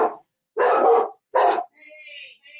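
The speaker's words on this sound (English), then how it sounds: "My dogs are going nuts for some reason." Several dogs in a home bark in two loud bursts, then give a thinner, fainter whine or yelp at the end.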